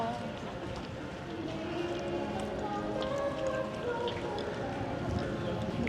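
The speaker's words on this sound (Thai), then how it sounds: "โอ้ฟ้าร้องอุ้ยฝนตกแน่ๆ" Steady rain pattering on a surface in Lumphini Park, filling the background with a dense hiss while people talk nearby.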